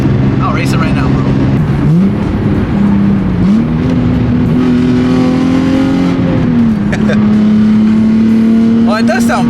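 Nissan 350Z engine and exhaust revving up and settling to a steady idle drone close by, with pitch rising and falling over several seconds while people talk over it.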